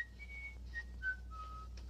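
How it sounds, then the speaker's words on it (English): A man whistles the wedding march tune indoors, short clear sustained notes moving between pitches, soft and fairly close with a low background hum. "must you keep whistling Here Comes the Bride all day long?"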